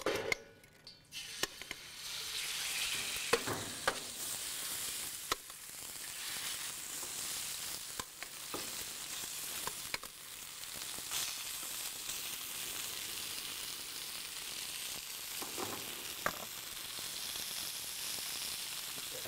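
Meat browning in very hot oil in a paella pan on an infrared grill crackles with a moderate, continuous sizzle, broken by occasional sharp clicks and utensil knocks.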